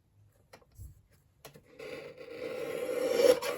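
Card paper being trimmed for a handmade thank-you card, heard as a few faint taps followed by a quiet, steadily building scraping slide of a trimmer blade.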